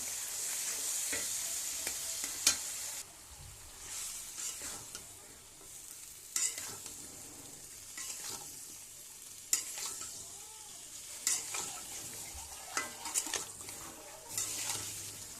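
Flat beans frying in a pan with a cooked spice mixture, prawns also in the dish, a steady sizzle broken by repeated spatula stirs and scrapes, close and alone without talk.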